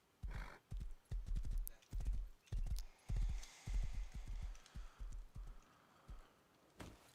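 A horse in the survival video game Rust trots with rhythmic, close clip-clopping hooves in quick bursts, with brief pauses and a short whinny-like burst near the end.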